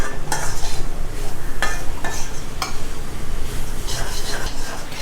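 Vegetables seasoned with rosemary sizzle in a pan over high flame, with steady frying and a few sharp clinks of a spoon stirring against the pan.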